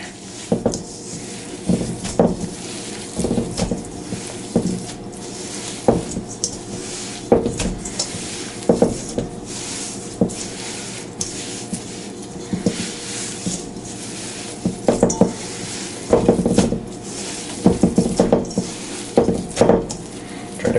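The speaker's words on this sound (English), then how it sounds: "mix this up by either with a spoon or by hand until everything is completely incorporated" A spoon or hands mixing ingredients in a bowl, giving repeated close clinks, scrapes and knocks in an uneven rhythm, with no talking.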